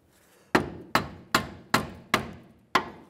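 A pry tool is struck repeatedly to open the pinch bolt clamp on a 2007-2013 Mitsubishi Outlander steering knuckle: six sharp metallic hammer blows at a steady rhythm, each ringing briefly, close and loud.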